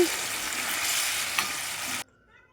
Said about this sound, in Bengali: বেগুন দিয়ে আবার পরিমাণ মতো লবণ দিয়ে কিছুক্ষণের জন্য আবার মিক্স করে নেব